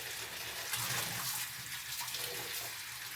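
Tap water runs steadily into a sink while vegetables are rinsed, a soft continuous splashing hiss with small shifts in the flow.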